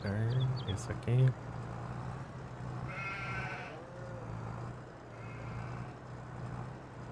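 A few bleats of sheep in Farming Simulator 22, harmonic and wavering, over a steady low hum and background game ambience.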